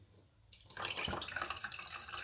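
Water splashes and gurgles as about a litre is poured into a pot of washed mutton for yakhni pulao, starting abruptly after a quiet moment and running steadily, close and fairly soft.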